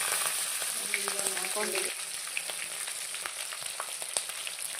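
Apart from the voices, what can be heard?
mustard seeds, chillies and curry leaves sizzling in hot oil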